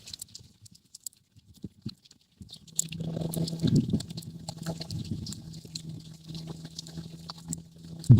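A rain sound effect in a Bengali horror cartoon set on a stormy monsoon night: faint scattered pattering at first, then a denser, steady patter over a low hum, with no speech.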